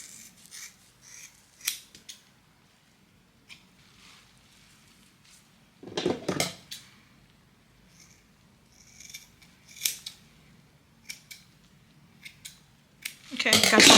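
Scissors snip through type 4 natural hair during a sew-in trim, giving scattered crisp cuts with a louder burst of snipping near the middle and a sharp cluster at the end, close and fairly quiet.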